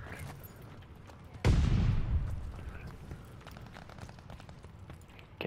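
In a multiplayer shooter game, a single loud grenade blast booms and then rolls off into a long decaying rumble, with faint gunfire and game noise before and after.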